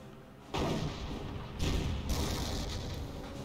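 A Panther tank fires its main gun in the World War II strategy game Company of Heroes, heard as two heavy, booming cannon blasts about a second apart over a steady battle rumble, with no talking.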